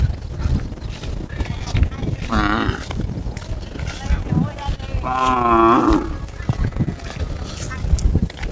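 Two long, drawn-out cow moos in a quiet village countryside among rice fields, each lasting about half a second to a second, heard fairly close over a low murmur of background noise.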